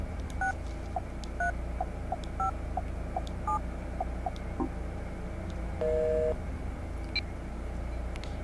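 A phone number is dialed in the video game Silent Hill Shattered Memories: a run of short, evenly spaced keypad tones over a low hum, with a longer held tone near the end.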